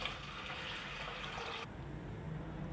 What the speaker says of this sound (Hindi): दाल को इसमें डालने के बाद इसमें तकरीबन हम डालेंगे 3 गिलास पानी।